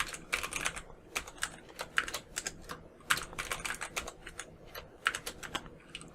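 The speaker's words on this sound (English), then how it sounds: "make sure that you type in your password twice" A password typed on a computer keyboard during a Windows Server 2022 setup, heard as a quick run of fairly faint, irregular key clicks and taps with no talking.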